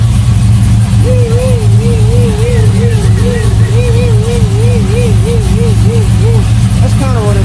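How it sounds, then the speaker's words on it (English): A Chevrolet Trailblazer engine fitted with a Procharger supercharger runs loud and close on its first start, its low rumble topped by a wavering, rising-and-falling supercharger whine. "Hear that supercharger."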